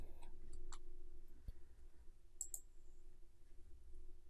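Faint, sparse clicks of a computer mouse on a Dell laptop setup, a few isolated taps spread across a quiet room with a low steady hum underneath and no speech.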